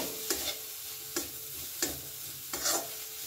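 Mawa and grated coconut being stirred together in a pan, four evenly spaced scraping strokes over a low continuous hiss, close and moderately loud, with no voices.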